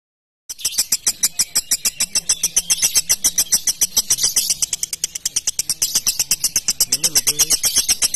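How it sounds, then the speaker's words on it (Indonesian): A lovebird gives its ngekek call, a fast, unbroken stream of sharp, even chirps repeated many times a second. The call is close and loud and runs for about eight seconds. "Ingat, burung perlu waktu untuk gacor dan ngekek manggap."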